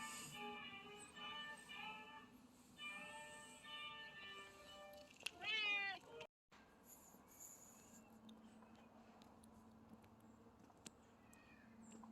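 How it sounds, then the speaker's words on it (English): A small cat gives several faint meows outdoors at night, with a louder drawn-out meow near the middle before a short silence and quiet ambience. "Here's another little kitty."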